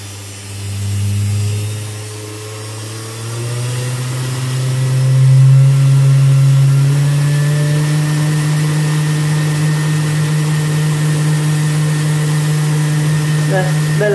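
A DC 12V 775 electric motor on a speed controller whines as it ramps up, its pitch climbing steadily from a low hum to a high, sustained tone, with someone speaking over it.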